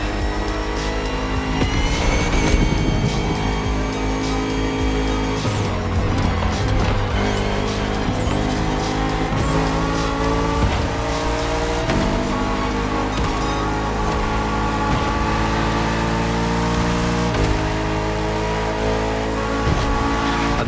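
A Bugatti Vision GT hypercar is driven in The Crew Motorfest video game. Its engine revs loudly and continuously through repeated gear shifts and accelerations, close up, with no talk.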